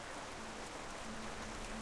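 Steady rain in World of Warcraft, a soft, even hiss of falling drops that runs without a break and carries no speech.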